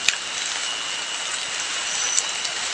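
Steady rain falls through the night, a dense, even hiss with a few sharper drops standing out, continuous and fairly close.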